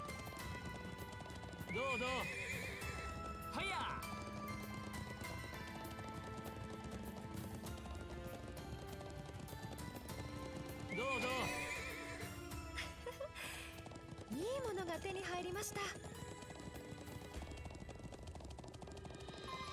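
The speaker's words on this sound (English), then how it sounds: "I've never seen a horse go so fast." Fast galloping horse hoofbeats in The Legend of Heroes: Trails into Reverie drive on without pause, broken by two loud, shrill whinnies, with a synthetic, game-like quality throughout.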